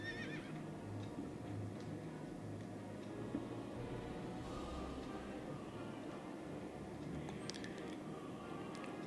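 A mounted horse in World of Warcraft gives a neigh with hoof clops over a low game ambience. The sound is faint and distant, and no one talks.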